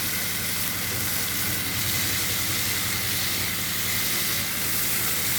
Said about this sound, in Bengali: পটলগুলো সুন্দর করে ভেজে নিচ্ছি